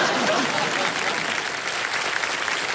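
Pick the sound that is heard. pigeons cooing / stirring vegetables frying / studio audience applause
studio audience applause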